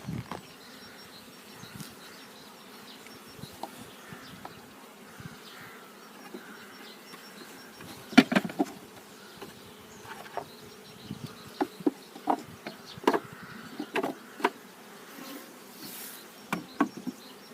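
Honey bees hum in a steady low drone at an open hive holding mostly young bees, with sharper buzzes as single bees fly close past, and no talk.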